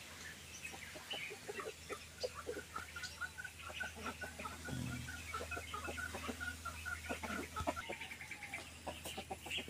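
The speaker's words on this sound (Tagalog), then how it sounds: "May manok na pula." Chickens around a rural house in Lubao, Pampanga, clucking in soft repeated bursts at a moderate distance, with faint bird chirps and outdoor background noise.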